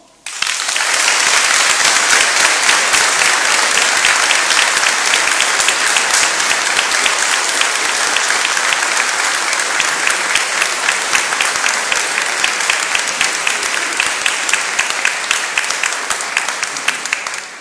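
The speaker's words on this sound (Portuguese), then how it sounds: "Uma salva de palmas" Loud, dense applause from a large congregation at a Catholic gathering, with the Bishop of Leiria-Fátima present, starting abruptly and holding steady as a continuous roar of clapping for over fifteen seconds.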